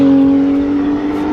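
A car passing close by a parking lot on a sunny day: a loud, steady engine hum with a strong tonal drone that fades slightly over about a second, with no talking.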